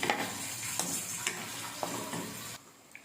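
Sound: stirring frying plantain and brinjal with chili powder

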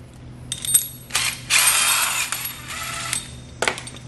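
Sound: nut being threaded onto bolt of foot bracket

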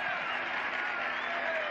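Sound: stadium crowd applauding a football player

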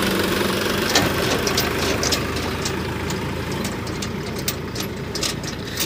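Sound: Sonalika 60 Rx tractor engine running

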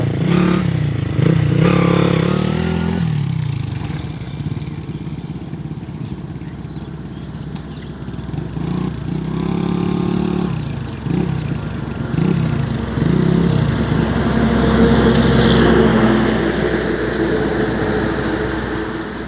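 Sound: Honda three-wheeler engine running during a test

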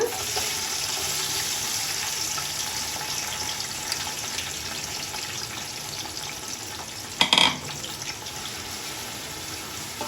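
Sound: onions frying in a pan

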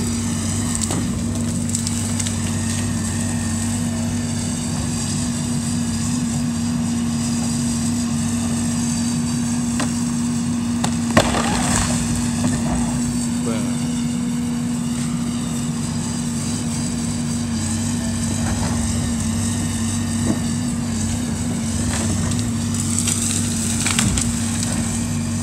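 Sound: backhoe demolishing a house

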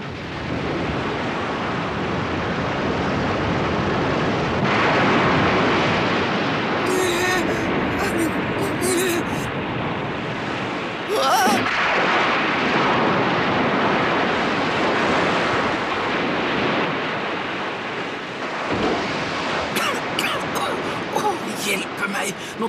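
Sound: storm at sea, waves and wind

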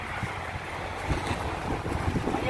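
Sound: strong wind blowing

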